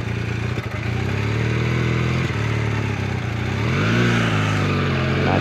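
A Honda CB450T motorcycle engine drones steadily while the bike is ridden, its pitch dipping and rising as it shifts gears. The engine is close and loud.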